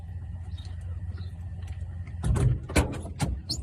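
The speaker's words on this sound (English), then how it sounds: "You can shut my door." A car door thuds shut during a police traffic stop, giving a few sharp, close knocks over a low rumbling background.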